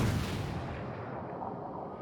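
A heavy boom from ship guns firing in a naval battle video game, one loud deep blast at the start that rolls off into a long, low rumbling decay with no speech.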